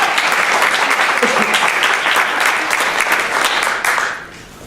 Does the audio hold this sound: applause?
yes